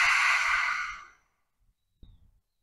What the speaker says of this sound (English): taking a nice deep inhale through the nose, and a big open mouth exhale